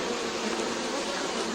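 Honeybees buzzing steadily around a hive during royal jelly production, a dense continuous drone that stays even and close throughout with no voices.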